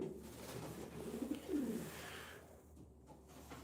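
Racing pigeons coo in a loft at night, soft rolling calls rising and falling close by over a steady low hum, with a louder burst of cooing in the middle before settling back.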